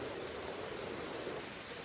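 A hidden waterfall at Amboli roars as a continuous, dense rush of falling water, steady and loud with no pauses.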